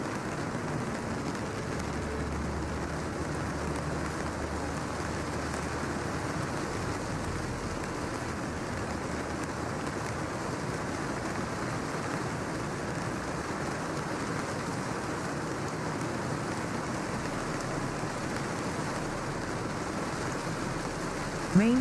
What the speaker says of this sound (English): Rain lashed against the windows of the diner,